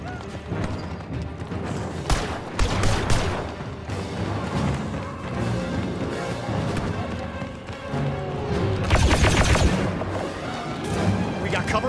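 Gunfire and explosions erupt in a Star Wars shooter game set on Cloud City, with dense, continuous battle noise and voices calling out over the combat.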